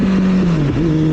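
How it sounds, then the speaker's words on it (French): A motorcycle engine revving loudly and close with popping backfires, its pitch dipping then climbing again in a short burst. "Et ça pétarade."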